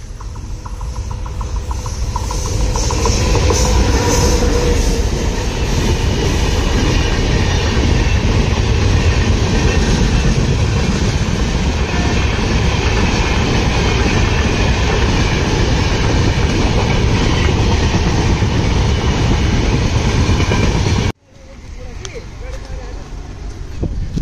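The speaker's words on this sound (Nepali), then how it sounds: "ट्रेन पनि आइपुग्यो ठ्याक्कै।" A train arrives and passes close by, a loud, sustained rumble with wheel clatter for about twenty seconds before an abrupt drop to quieter background.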